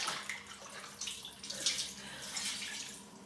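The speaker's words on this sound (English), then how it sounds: "Let's get some fresh water into here." Fresh tap water runs into a shaving bowl before lathering, a continuous splashing gush with bright fluctuating spatter at close range and no talking.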